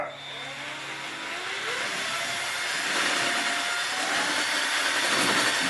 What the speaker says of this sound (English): PawPaw's going to use his cordless drill.